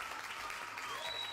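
Audience clapping and cheering for a guest on a live football talk show, a dense, steady wash of applause heard up close for a brief moment.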